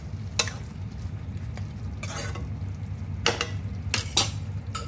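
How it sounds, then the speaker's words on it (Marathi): A spoon stirring thick gravy with ground masala paste and ginger-garlic paste in a pan, with soft sizzling throughout and a few sharp metallic clinks of utensil against the pan at irregular intervals. "आता व्यवस्थित मिक्स करू।"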